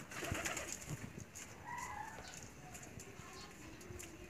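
Domestic pigeons coo softly at a backyard farm where goslings and chickens are also kept, low murmuring calls heard faintly against light background noise.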